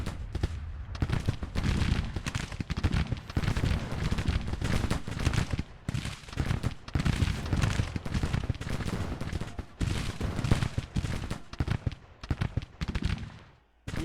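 Musket volleys crackle in a Grand Tactician Civil War battle, a dense, continuous rattle of many overlapping shots with uneven bursts and brief lulls, loud and sustained to the end.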